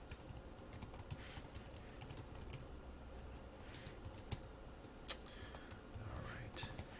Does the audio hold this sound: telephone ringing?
no